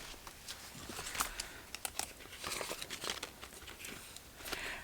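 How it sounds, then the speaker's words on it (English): Paper banknotes crinkle and rustle as cash is handled and slid into an envelope, with soft, close, irregular crackles and a few sharper snaps over a quiet room. "So we're going to put 20 of this into my envelope."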